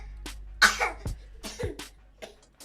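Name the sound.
child fake coughing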